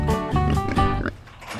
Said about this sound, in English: Let's go see some pigs.